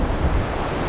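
Sea waves washing onto the coast of Taiwan, with offshore wind turbines nearby, a steady broadband surf roar mixed with wind buffeting the microphone, continuous and fairly loud with no voices.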